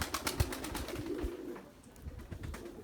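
Pigeons taking off and flying in wind, with rapid wing claps and flutters close by at first, easing off, then more flapping bursts; a bird coos faintly.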